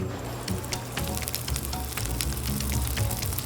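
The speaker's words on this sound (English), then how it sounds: "I'm gonna go ahead and sear the scallops." Scallops sear in a hot pan, a dense, steady sizzle with crackling pops running throughout, close and loud, with no talking.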